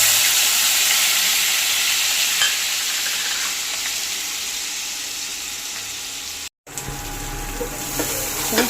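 Onion paste sizzling and frying steadily in hot oil in a kadai with cinnamon, bay leaf and dry red chilli for a home-style prawn curry, a constant close hiss broken by a brief gap near the end.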